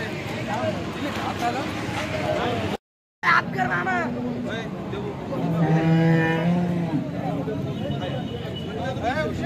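A cow at a busy cattle market in Alephata lows in long, drawn-out moos, loudest toward the middle, over a steady babble of nearby voices and market bustle.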